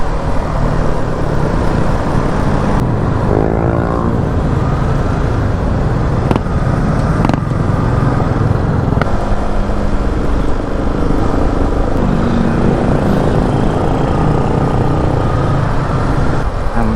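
Cars and motorcycles pass along a road at night in Balibago, a loud, steady engine and tyre rumble with vehicles swelling and fading as they go by, heard from close at hand.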